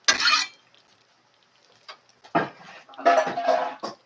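Onions are tipped into a pot of rice made from stored preps and stirred in. A few close clattering scrapes and rustling bursts are separated by quiet pauses.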